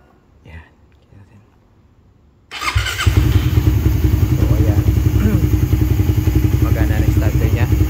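A Raider 150 Fi motorcycle is started on its electric starter, with a short crank followed by the engine catching. It settles into a loud, steady, close idle that runs to the end, and some faint talk and handling noise come before it.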